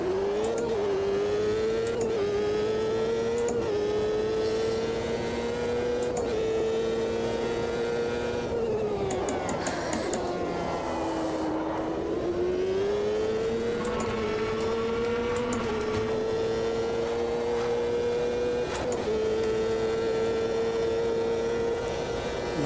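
Race car engine in Automobilista 2, a continuous loud whining drone that climbs through gears with brief shift drops, dips low under braking in a corner, then builds again at full throttle.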